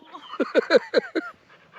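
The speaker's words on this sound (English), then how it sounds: "Oh, it's an older dog, you can tell." An older dog close by gives a quick series of five or six short whimpering yips with breathy panting between them, lasting under two seconds, with no talk over it.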